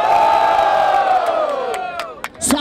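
A crowd cheers and whoops loudly at a Batalha da Aldeia freestyle rap battle in Barueri, São Paulo, a sustained roar that dips slightly, then rises again with sharp shouts near the end.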